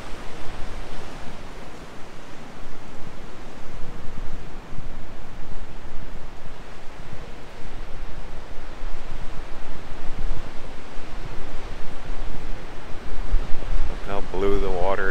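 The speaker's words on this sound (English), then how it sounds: "Listen to that water crash on those rocks." Powerful Pacific surf crashes steadily against rocks on the Oregon coast, a loud, continuous roar of breaking water with wind buffeting close by.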